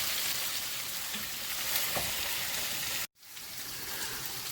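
Onions and meat frying together in a pan, a steady broadband sizzle that runs continuously, broken by a sudden brief near-silent gap before the crackling resumes at the same level.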